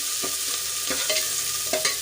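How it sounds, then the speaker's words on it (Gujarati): Onions sauté in a pan while a loud, steady sizzle fills the clip and several sharp scraping stirs of a spoon cut through it, with no talking. "આપણે ડુંગળીને આછા ગુલાબી રંગની થઈ જાય ત્યાં સુધી આપણે સાંતળી લઈશું"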